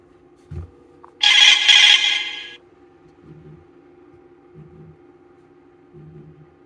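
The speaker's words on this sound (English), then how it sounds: "Here's a sample of a phone call and voicemail to test the mic and speaker on the watch." A rugged flashlight smartwatch rings for an incoming phone call, a single loud electronic burst lasting about a second, followed by quieter repeating tones at a steady interval.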